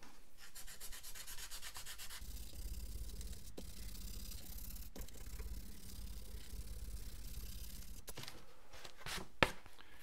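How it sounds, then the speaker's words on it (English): Foam wing edge being bevelled with a 100 grit sanding block, a steady scratchy rubbing that runs close and continuous, with a few brief sharp knocks toward the end. "with a sanding block, it's important to use a sanding block"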